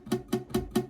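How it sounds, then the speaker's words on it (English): Four quick, evenly spaced strums on an acoustic guitar, each chord buzzing where flattened fingers touch neighbouring strings, close and moderately quiet. "buzzy sounds"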